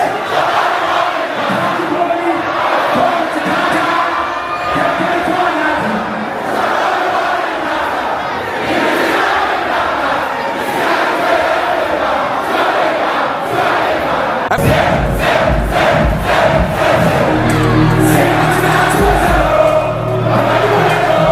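A packed concert crowd at a sold-out show at O2 Shepherd's Bush Empire sings along loudly in unison, a dense roar of voices that carries on throughout, with pounding music rising near the end.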